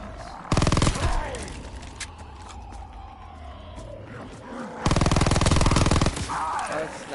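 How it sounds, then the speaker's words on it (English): Two loud bursts of rapid submachine gun fire in Call of Duty WW2 Zombies, each lasting over a second, separated by quieter mechanical clatter and creaks. "probably the best SMG you can have in zombies."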